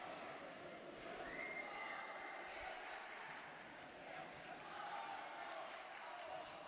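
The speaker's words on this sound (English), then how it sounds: "The Ukrainian voices in the crowd are just starting to raise a little more now" A faint, distant boxing-arena crowd at a junior European championship bout in Tbilisi, with Ukrainian fans' voices swelling slightly in a steady, diffuse murmur.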